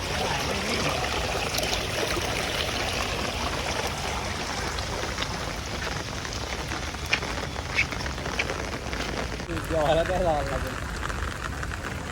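Water from a seasonal village stream runs steadily during the rainy season, a continuous trickling rush close by with people talking over it now and then.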